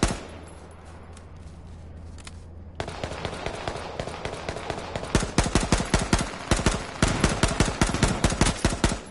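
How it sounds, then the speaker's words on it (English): Rapid gunfire from a pistol in a shooter video game, sharp shots cracking out one after another in quick bursts, loud and close, growing denser toward the end after a quieter stretch at the start. "He's shooting me with a pistol."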